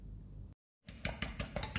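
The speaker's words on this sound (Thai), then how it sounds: "แล้วก็ตีไข่ให้ขึ้นฟูนะคะ" A whisk or utensil beats two eggs with a teaspoon of fish sauce in a bowl, rapid rhythmic clinks against the bowl after a brief pause.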